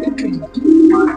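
Pigeons, a long-type bird freshly paired with a short-size one, give a close, brief run of low, soft cooing that swells and falls over about a second.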